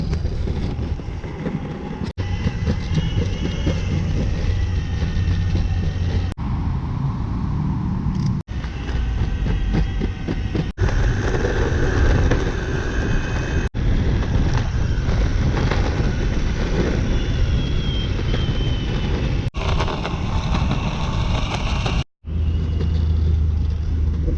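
Steady rolling rumble of an electric skateboard cruising downhill through San Francisco streets, loud and continuous with brief cuts and wind noise, without speech.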